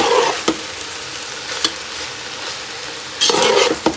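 Macaroni being stirred and mixed with masala in a hot pan, a low steady sizzle broken by a few sharp scrapes and clanks of a spoon against the pan, close and without speech.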